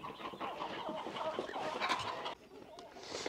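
Belgian-breed chickens clucking and murmuring close by on a farm, a busy scatter of short calls with a voice or two mixed in.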